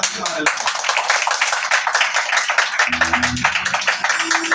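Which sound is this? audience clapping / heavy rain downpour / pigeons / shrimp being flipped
audience clapping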